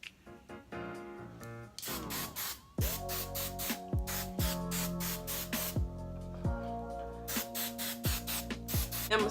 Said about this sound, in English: I'm gonna spray with the Tresemme.